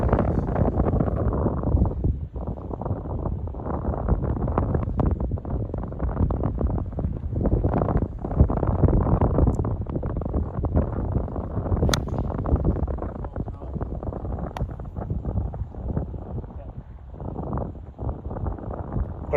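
Heavy wind buffets the microphone on a golf course fairway, a continuous loud low rumble with gusting surges running steadily throughout.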